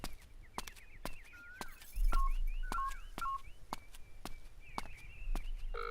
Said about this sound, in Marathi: जरा फोन लावून द्या बरं.